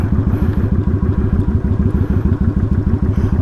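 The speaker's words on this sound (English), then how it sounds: "get some different angles of the bike going down the road" A 2014 Kawasaki Vulcan 900 Custom motorcycle riding down the road, its engine throbbing in a steady, rapid low pulse, loud and close, with no voices.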